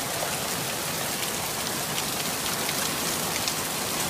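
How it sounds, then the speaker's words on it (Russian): Heavy hail pouring down during a spring storm, a dense, steady, loud hiss of impacts with no voices over it. "Сильный град идет."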